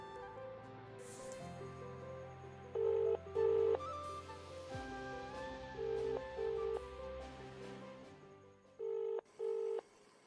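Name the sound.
phone call ringing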